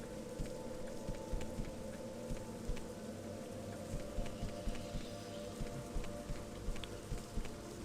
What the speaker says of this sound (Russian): Еще и дождь пошел.